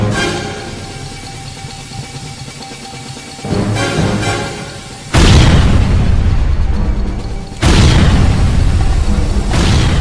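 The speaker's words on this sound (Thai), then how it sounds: "เสียงระเบิดดังกึกก้องกัมปนา" A series of heavy, booming blasts from a light-and-sound stage show, each a sudden loud burst followed by a long roaring rumble, growing more intense with every hit.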